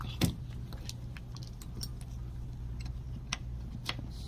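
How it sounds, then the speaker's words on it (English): Metal hand tools, a pair of pliers and Allen keys, being picked up during mobility scooter transaxle repair work, a sharp clink followed by light scattered metallic ticks and jingles over a low background hum. "we're just gonna grab a pair of pliers and one of our trusty Allen keys"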